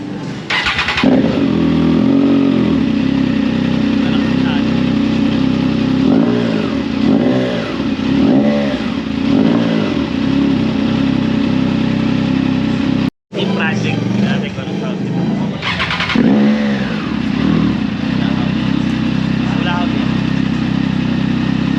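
A Triumph Trident 660 Triple Tribute motorcycle with a new exhaust idles loudly up close and revs in repeated sharp bursts, a brief cutout midway, with people talking over the engine.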